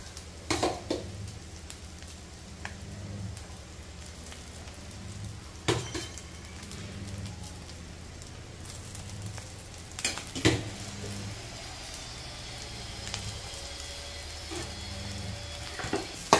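Cooked rice frying with egg in a hot pan, stirred with a spatula: a steady soft sizzle runs throughout, broken by several sharp scraping clinks of utensil against pan, with no talking.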